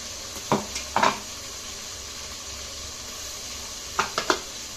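Ground masala paste fries in a pan for masala bhaat, a soft continuous sizzle beneath a few sharp scraping clatters of a spatula against the pan, heard close with no talking.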